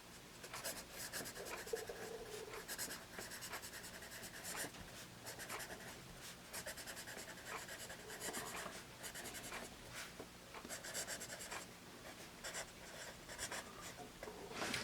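A Musgrave Test Scoring pencil scratches across paper in quick, close strokes, a dry rhythmic rasp with short pauses between bursts, quiet and alone.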